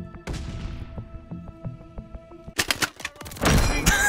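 Automatic-weapon gunfire from Call of Duty: Vanguard multiplayer, a sustained burst of rapid shots, then a louder, denser volley with sharp cracks and crashing impacts near the end.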